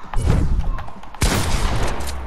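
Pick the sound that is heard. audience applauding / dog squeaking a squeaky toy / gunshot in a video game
gunshot in a video game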